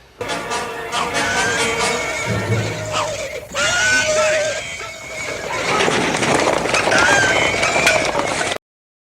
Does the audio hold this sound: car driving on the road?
no